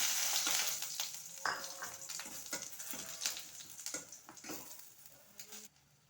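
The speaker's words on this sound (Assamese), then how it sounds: "এতিয়া মৌৰিবিলাক ইয়াত এড কৰি দিম অলপমান ফ্ৰাই কৰিম" Fennel seeds crackle and sizzle softly in oil with scattered stirring scrapes, the frying growing quieter toward the end.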